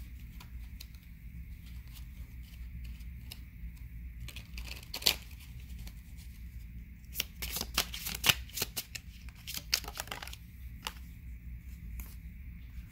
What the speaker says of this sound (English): let's use this deck real quick. Find one more card.